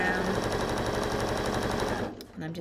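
A sewing machine runs continuously down a fabric Morsbag seam with a rapid, rattling stitch rhythm up close, slowing and easing off near the end while a voice briefly talks.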